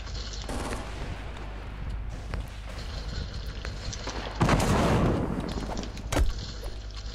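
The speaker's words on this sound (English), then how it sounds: "Whoa, I'm getting shot at by nasty looking people." Gunfire in a Fortnite duos match, bursts of shots cracking out of a rumbling background, with a heavy volley about two thirds of the way through and a sharp final shot near the end.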